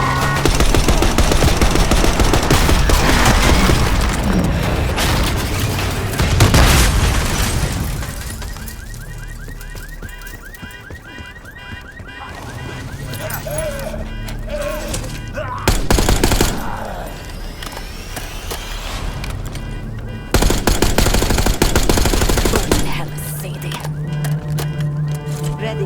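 Call of Duty Black Ops 6 street shootout with loud bursts of automatic gunfire and heavy impacts in several waves, mixed with shouted voices, game music and passing traffic.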